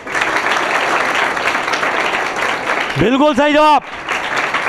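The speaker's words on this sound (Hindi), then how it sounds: "मारो तालियां" Continuous applause fills the room from a group of people at a school prize event, with a voice briefly calling for clapping over it near the end.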